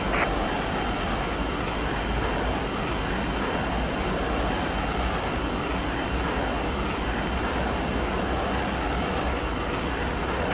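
Fighter jets taking off in a combat flight video game, a steady loud broadband engine roar holding for ten seconds without pause.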